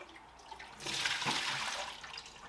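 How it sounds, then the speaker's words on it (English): Roughly a quart of reverse osmosis wastewater poured into a drain from a water purifier, a soft start that swells into a steady close splashing gush lasting about two seconds. "So this is about a quart of water that is produced that gets tossed in the drain"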